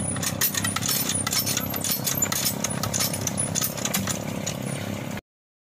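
A tractor engine runs steadily beside the Indus River at Taunsa Barrage while it pumps water, giving a continuous loud mechanical drone that carries on for about five seconds and then cuts off abruptly.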